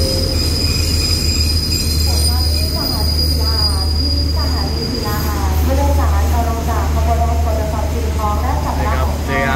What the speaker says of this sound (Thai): ขบวนรถที่จอดเทียบในทางชาที่3เป็นขบวนรถด่วน